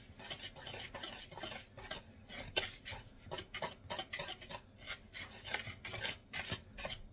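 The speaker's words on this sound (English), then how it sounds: "then I'm going to whisk that together" A whisk scrapes rapidly around a bowl, stirring a teaspoon of salt into dry baking ingredients, with quiet rhythmic rasping strokes that repeat steadily and close by, no voices over it.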